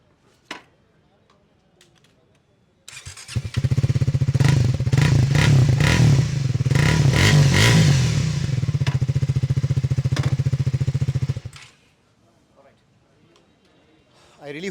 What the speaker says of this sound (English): let's listen to the exhaust of the Speed 400 as well